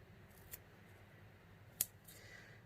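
Scissors snip paper foliage for a handmade card in a quiet room, a few short sharp cuts with one distinct louder snip in the middle.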